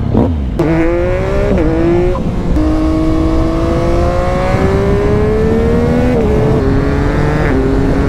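BMW S1000 XR motorcycle engine while riding on a wet road, a loud four-cylinder howl repeatedly rising in pitch through gear changes, with short dips between pulls and no voices.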